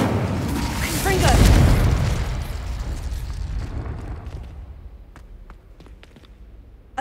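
Confringo spell in Hogwarts Legacy exploding with a loud, deep boom that swells and then rumbles away over several seconds, followed by scattered small crackles and debris clicks.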